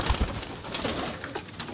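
Ali-breed pigeons in a Lahore loft coo with soft, low, throaty calls repeated in short bursts. The calls sit among rustling and faint background sound at moderate loudness, with no one speaking.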